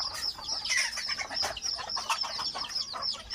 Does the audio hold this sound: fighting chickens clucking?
yes